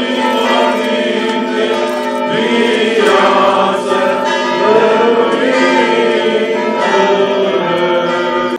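Church bells ring out in a sustained, layered wash of tones at a monastery feast-day service, with singing blended in throughout, steady and fairly loud.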